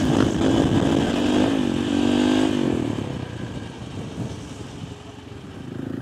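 A supermoto motorcycle engine roars loudly and close as it revs hard during a high-speed wheelie, holding a raspy, sustained drone before easing slightly.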